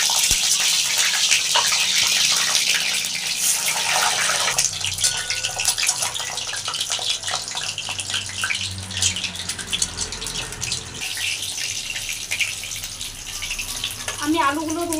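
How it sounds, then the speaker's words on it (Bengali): Potatoes, eggs and cauliflower fry in hot oil in a wok, giving a loud, steady, watery hiss with bursts of crackle throughout, a faint voice briefly surfacing near the end. "আমি আলুগুলো ভেজে নিচ্ছি খুব ভালো করে, লাল লাল করে।"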